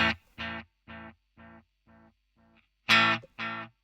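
Guitar notes repeating through an analog delay pedal, each echo fading and growing duller, a run of evenly spaced pulses before a louder new note and its repeat.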